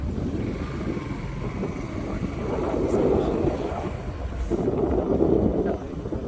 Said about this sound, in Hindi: ठंडी ठंडी ठंडी हवा चल रही है।